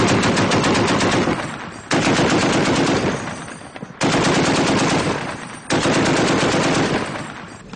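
Foreign Legion weapons fire in Afghanistan in long, loud, sustained bursts of automatic gunfire, with each barrage starting abruptly and tapering off before the next one begins.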